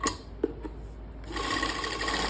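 Sewing machine stitching a seam on a suit, sounding as a soft steady whir that grows louder and denser in the second half after a couple of brief clicks near the start.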